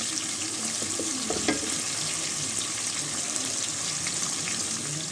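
Steady sizzling and crackling of onions frying in a pan, constant and fairly close, with a few faint clinks of utensils.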